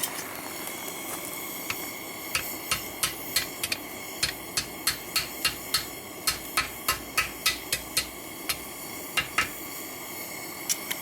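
Sharp metallic hammer strikes on hot steel while forging a heavy-duty knife blade, a steady run of ringing blows at close range, spaced about every half second with short pauses, no talking.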